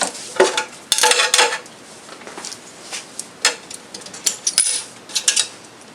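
A sheet metal punch and die making a test cut through a sheet metal workpiece produces a series of sharp metallic clicks and clunks, some close together and some spread out, loud and close.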